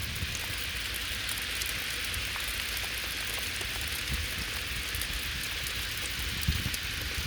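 Hose water running on high down a rain chain into a bucket outdoors, a dense steady patter and splash like heavy rain, constant and close with no pauses.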